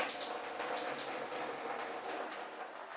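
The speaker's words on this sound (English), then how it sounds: "I'm going to give them another quick rinse and shake up, make sure all the little bugs are off" Freshly picked violet flowers get a quick rinse under running water, a steady close splashing stream with soft gurgles and no talking.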